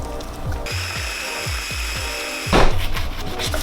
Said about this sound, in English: once she's blended up nice and smooth just like that